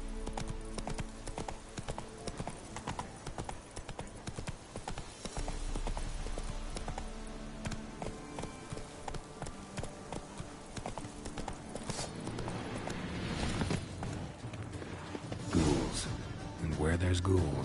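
Roach, Geralt's horse in The Witcher 3 video game, trots with steady rhythmic clip-clop hoofbeats over game music and ambience, while a voice talks over the scene.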